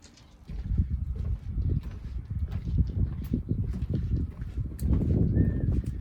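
Horses' hooves clip-clopping in an irregular stream of dull thuds, fairly close, with no talking over them.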